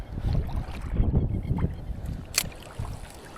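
Wind gusting across open water near a shore of worm holes and feeding holes while fishing for bream and whiting, a steady rough rush with buffeting against the microphone and a brief sharp gust spike.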